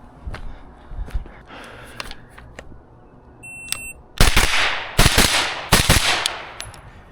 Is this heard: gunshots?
yes